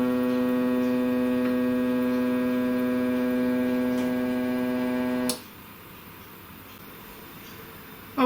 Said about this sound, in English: tell the machine to go and find the home position